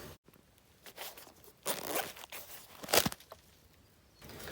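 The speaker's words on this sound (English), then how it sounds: "from either side, you can just pull down on the zipper" A zipper on a tactical pouch is drawn open in a few quick rasping pulls, close and crisp, with light rustling of fabric between the strokes.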